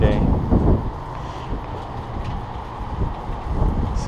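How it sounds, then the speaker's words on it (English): Strong wind gusting outdoors, a broad low rumbling roar with buffeting swells that rise and fall steadily around a rain-streaked window, with faint voices in the background. "it is extremely windy today"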